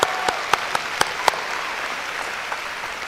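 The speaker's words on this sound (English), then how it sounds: "Can you just give them a round of applause?" A crowd at a high school graduation ceremony applauds the student speakers, with a few sharp nearby claps standing out over a steady wash of clapping that gradually thins.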